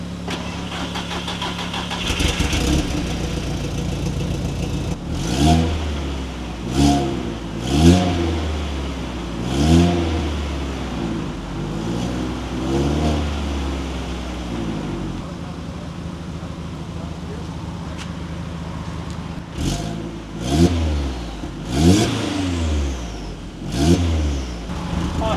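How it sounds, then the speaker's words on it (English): An Audi TT with a full exhaust cranks, catches and is revved repeatedly, each rising and falling engine pull clearly audible between stretches of rough idle, with voices talking over parts of it. "this will be the first time starting it with a technically full exhaust. So let's see if this thing sounds any good"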